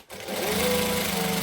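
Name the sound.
sewing machine stitching a hoodie seam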